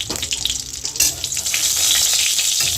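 Dried red chilli, bay leaves, cardamom and cinnamon crackle and spit in hot oil for cholar dal, a loud close sizzle that swells and stays dense throughout.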